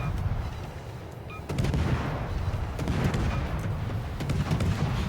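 The Friesland destroyer's guns firing in World of Warships, a rapid stream of overlapping booming shots that rolls on without pause, with faint talk in the background.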